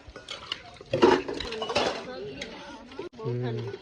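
Clattering of dishes and utensils being washed, with clinks and scraping, while people talk nearby.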